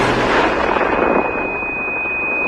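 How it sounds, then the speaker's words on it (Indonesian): A single loud explosion in a Korean drama bursts out and then decays into a long rumbling wash that fades over a couple of seconds, followed by a thin steady ringing tone. "Namun saat telepon terhubung, Hejo mendengar suara ledakan."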